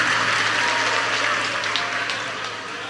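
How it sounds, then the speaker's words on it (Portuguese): Church congregation applauding together during a morning communion service, a steady wash of clapping that holds for a few seconds, then gradually thins and softens, with no clear talk over it. "os que podem, tomem seu assento aplaudindo a Jesus, porque Ele é bom, porque Ele é maravilhoso"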